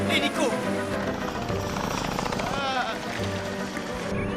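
A helicopter in an animated cartoon keeps up a steady whirring drone beneath excited voices and dramatic music throughout.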